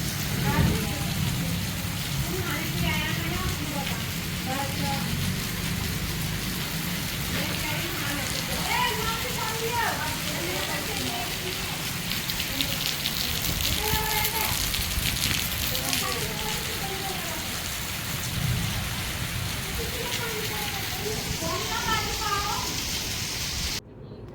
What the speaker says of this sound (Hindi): तेजम तेज बारिश आ रही है।